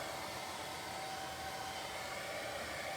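A blow dryer blasts air over a wet watercolour wash, a steady whooshing hum with a faint tonal whine, constant and close, with no talking.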